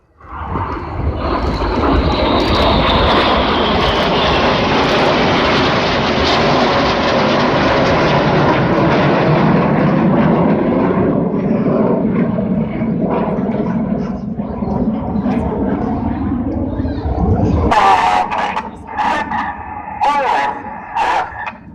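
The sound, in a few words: Red Arrows jet aircraft flying corkscrew manoeuvre at airshow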